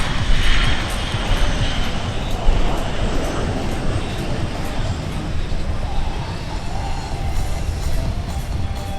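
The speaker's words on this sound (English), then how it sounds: "The KC-135 from Altus and the reload slow pass." A KC-135 tanker makes a slow pass at an airshow, its broad jet roar loud and sustained across the whole stretch, with faint crowd and announcer noise beneath.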